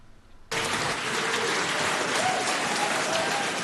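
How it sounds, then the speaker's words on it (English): Applause from across the House in the New Zealand Parliament bursts in abruptly after a short quiet moment, then continues as a loud, dense, sustained roar of clapping from many members. "Applause from across the House as Dunedin Labour MP David Clark formally bi"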